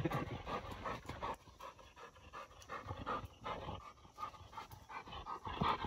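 A treed dog pants rapidly and steadily at night close to the microphone, quick rhythmic breaths running throughout with faint rustling behind.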